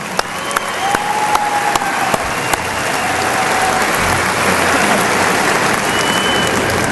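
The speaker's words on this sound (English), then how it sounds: "so please give them a round of applause." Sustained applause from a graduation ceremony crowd honoring salutatorians, dense and loud clapping filling the whole stretch, with a few whistles and cheers mixed in.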